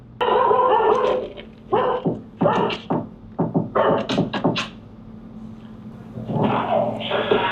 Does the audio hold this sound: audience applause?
no